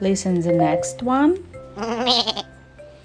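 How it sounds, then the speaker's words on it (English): A goat bleats loudly in a long wavering cry right after someone speaks a few words. "It's a sound of goat."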